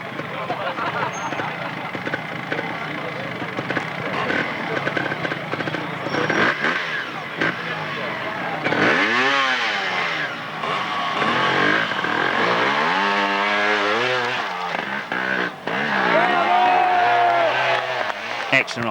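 A trials motorcycle engine at the 1992 World Trials Championship Italian round in Camerino revs up and down in repeated rising and falling sweeps, loud and close, with a voice talking over it.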